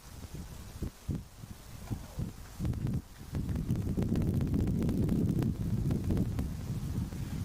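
Strong crosswind buffets the microphone at an outdoor cricket match on a chilly day, low rumbling gusts that swell and build into a sustained roar.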